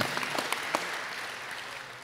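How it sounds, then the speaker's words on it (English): An audience at a university commencement ceremony applauds, with dense clapping that is loudest at first and then eases slightly over two seconds. "A little more applause for that."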